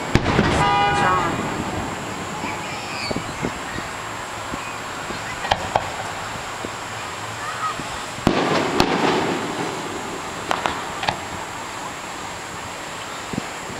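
Fireworks go off on a barge, heard as scattered sharp bangs and crackles from a distance, joined by a car horn's toots and people talking nearby.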